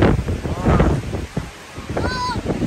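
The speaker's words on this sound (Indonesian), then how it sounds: "Angin pantai kenceng banget ya." Gusty beach wind buffets the microphone with low rumbling bursts, while a voice talks over it and a brief whistle-like tone rises near the end.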